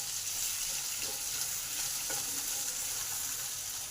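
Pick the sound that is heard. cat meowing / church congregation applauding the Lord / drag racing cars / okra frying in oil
okra frying in oil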